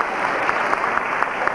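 Festival audience at a 1994 jazz event in Chañar Ladeado applauding a band, a steady wash of many hands clapping at moderate distance, even and continuous through the brief moment.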